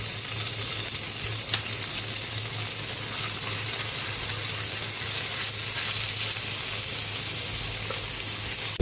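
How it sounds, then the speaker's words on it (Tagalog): Garlic sautéing in a hot pan for pork menudo, a loud, even, continuous sizzle with a low hum underneath and occasional faint stirring clicks, no voices. "Magigisa na po tayo para sa ating pork menudo. Lagyan na natin yung garlic, bawang."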